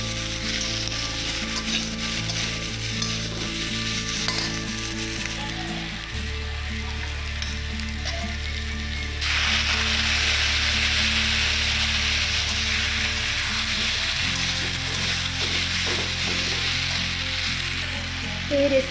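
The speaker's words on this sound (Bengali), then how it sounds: "এখন আমি কাটা টমেটোটা দিয়ে দিই" Chopped tomato is tipped into spice masala frying in a pan for an egg and potato curry, and a loud, steady sizzle swells as it lands, with stirring scrapes continuing close by.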